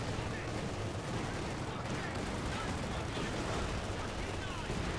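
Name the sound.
Thompson submachine gun fire in Company of Heroes 2 video game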